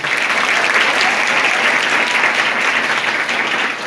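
Audience at a Marathi film promotion event clapping loudly, a dense, even burst of applause from a sizable crowd lasting throughout, close and sustained.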